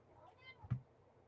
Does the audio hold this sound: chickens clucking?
no